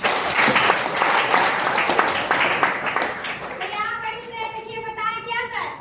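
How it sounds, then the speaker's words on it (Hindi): Loud audience applause at a health awareness meeting, a thick burst of clapping that thins out as children's voices and chatter rise through the final seconds. "जोरदार ताली"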